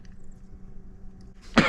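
A person gives a single sharp cough near the end after a quiet stretch, loud and close.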